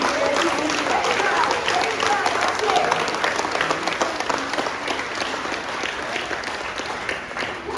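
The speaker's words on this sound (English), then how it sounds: "Who are you clapping?" A congregation at a Catholic parish Mass applauds loudly and continuously, a thick roar of many clapping hands with crowd voices mixed in throughout.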